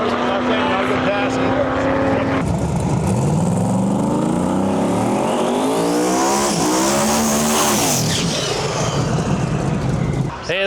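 A Pro Mod drag racing car at the Rocky Mountain Nationals making a poor pass, its tires losing grip, a loud roaring engine climbing and wavering in pitch before dropping off, with crowd and commentary beneath.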